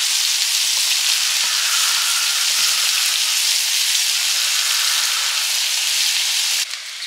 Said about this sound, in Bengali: চুনো মাছগুলো টকে দিয়ে দিচ্ছি।